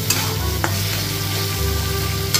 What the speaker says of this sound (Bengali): একটা বড় সাইজের পেঁয়াজ আমি কুচো করে রেখেছিলাম, সেটা দিয়ে দিলাম। দিয়ে ভালোভাবে এটা এখন ফ্রাই করে নেব।